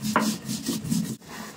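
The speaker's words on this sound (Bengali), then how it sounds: "এই মশলাটা কিন্তু আমি জল দিয়ে বেটে নেব একদম মিহি করে" Spice paste ground with water on a village grinding stone: rhythmic rough rubbing strokes of stone on stone, close and steady, repeating several times before a brief pause.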